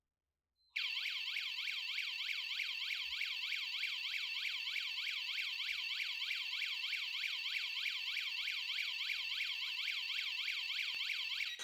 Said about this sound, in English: make sure the wireless siren goes off